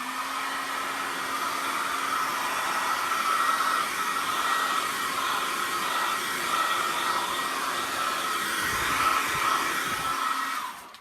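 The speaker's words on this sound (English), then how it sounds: "I'm just going to use a hairdryer on low." A hairdryer on its low setting whirs steadily at close range with a constant airy hum, running evenly throughout before cutting off at the end.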